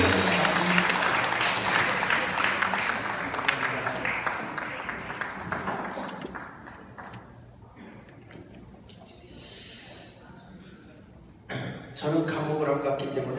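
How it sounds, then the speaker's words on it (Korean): Audience applause at an Easter union church service, a dense wash of clapping that fills the room for several seconds, thins out, then swells again briefly near the end. "박수 주세요"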